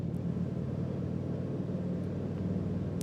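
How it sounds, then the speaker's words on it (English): A Harley motorcycle engine drones low and steady while being ridden along a wooded road, a faint, muffled rumble with no distinct revs. "You can hear the Harley sound in the background there."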